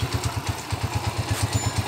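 A TMX 155 motorcycle engine idles on freshly changed oil, putting out a steady, close thumping pulse at an even rhythm with no other sound over it.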